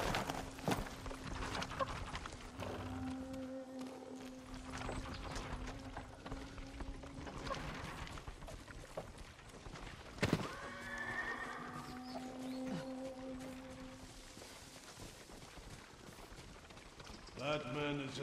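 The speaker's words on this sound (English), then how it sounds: "Follow those horses." Horses gallop and neigh in the video game Ghost of Tsushima: a steady clip-clop of hooves runs throughout, with several sharp whinnies rising above it and a louder burst near the end, all fairly quiet in the mix.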